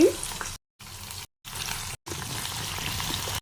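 Potato and cauliflower pieces fry in ghee with cumin, dried chillies and bay leaf, a steady bright sizzle broken by brief silent cuts.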